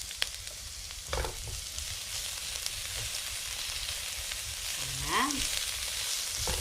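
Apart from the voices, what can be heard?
garlic and onion sautéing in a pan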